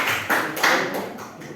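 A small group in a supervision meeting clapping hands, a few uneven bursts of claps over about a second and a half, moderately close and without talk.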